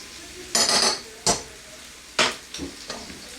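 Cocoa powder and cinnamon being mixed together in a bowl for a chocolate cinnamon cake, with four or five separate scraping, stirring strokes of a utensil, each short and bright, with quiet gaps between them.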